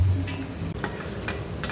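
Bondas fry in hot oil with a busy, crackling sizzle, broken by a few sharp ticks and light stirring clatters, close and moderately loud, with no one talking.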